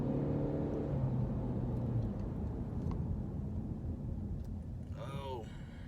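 A 2019 Ford Fusion SE with a 1.5L Ecoboost engine climbing a steep mountain grade at 60 mph, giving a steady loud road and engine drone throughout, with a brief high whine near the end.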